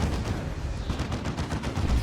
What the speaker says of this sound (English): Gonna eat a Plasma Cannon shot.